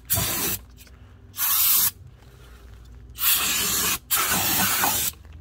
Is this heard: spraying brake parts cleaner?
yes